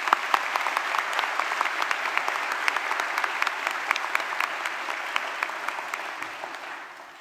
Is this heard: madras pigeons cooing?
no